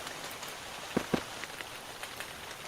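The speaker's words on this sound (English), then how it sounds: "Yeah, can hear the rain." Steady rain patters in the Silica game world, a constant hiss of drops on surfaces with a couple of brief louder taps breaking through midway.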